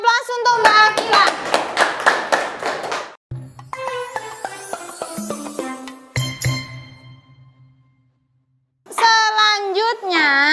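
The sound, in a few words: audience applause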